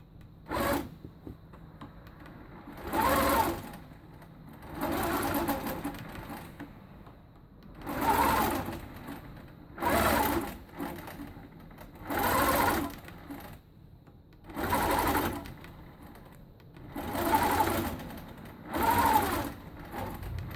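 A longarm quilting machine stitches in the ditch around a small hexagon block, running in roughly nine short, close bursts of rapid mechanical chatter separated by quiet pauses.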